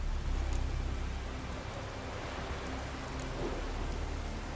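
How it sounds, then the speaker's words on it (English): Heavy rain pours in The Witcher 3 video game, a dense, steady hiss of falling water with a low rumble underneath, constant and enveloping throughout. "Raining fucking buckets."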